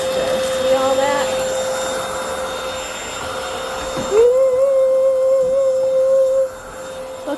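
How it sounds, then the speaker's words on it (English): A cordless vacuum cleaner hums with a steady whine at close range, stops briefly and then starts again with a rising pitch, and keeps running alongside light background noise. "Look at me use my vacuum."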